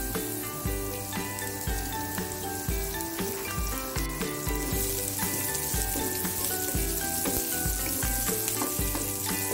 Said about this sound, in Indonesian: Sekarang kita tumis.